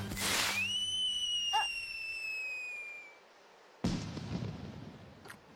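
A fireworks finale: a whistling shell rises and fades, followed by crackles, then a sudden sharp small explosion and a noisy rumbling tail, loud and fairly close.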